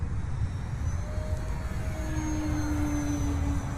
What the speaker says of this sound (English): This is definitely an aerobatic plane.